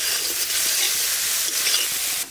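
Chopped onion frying in a pan with oil for a Bengali egg curry and susni greens, a steady close hiss and crackle of sizzling with faint stirring, no voices.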